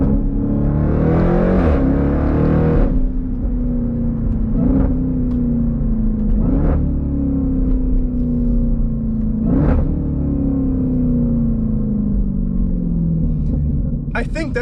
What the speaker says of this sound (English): I think the exhaust tone of this vehicle says it all, and not only is it loud and obnoxious